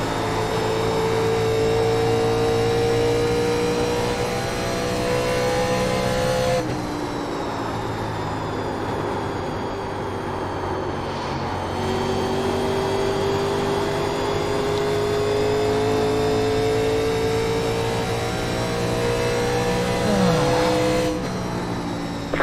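Several 1987 NASCAR Legends race car engines roar continuously at Nashville in the iRacing simulator, steady loud drone with rising and falling pitch as cars pass and shift, occasional brief dips, no talk.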